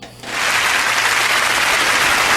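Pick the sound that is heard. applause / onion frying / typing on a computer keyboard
applause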